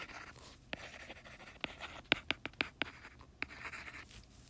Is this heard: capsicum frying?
no